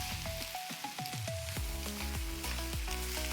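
Chopped onions hit hot oil in a pan, setting off a steady sizzle with quiet metallic taps from a spoon as they are stirred, close and moderately loud, with no talking, while cooking a Bengali egg curry.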